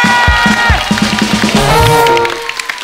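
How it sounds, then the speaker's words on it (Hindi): Studio audience claps and cheers loudly on a Hindi comedy talk show set, a dense burst of applause with whoops that then fades out. "जोरदार ताली हो जाए पत्नियों के लिए"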